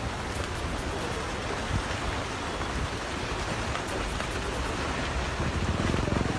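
Steady, dense hiss of heavy monsoon rain pouring down in Uttarakhand, a constant wash of noise with no let-up, close and loud throughout.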